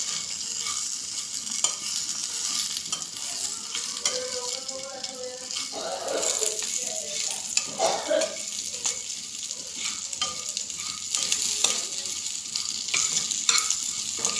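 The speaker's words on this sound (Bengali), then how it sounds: "এখন আমি এগুলো ভেজে নেব।" Flat beans (shim) frying in a pan and being stirred, a steady close sizzle broken by scraping stirs, with no talking.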